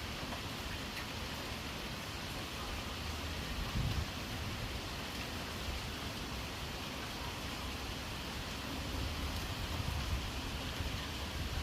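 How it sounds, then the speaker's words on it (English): Steady rain falling through a storm, a dense, even hiss holding at constant loudness for the whole stretch with no clear thunder and no voices. "Let's watch some rain together."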